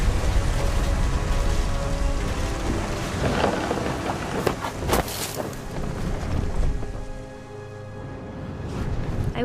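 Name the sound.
thunder and rain in a storm, from the video game What Remains of Edith Finch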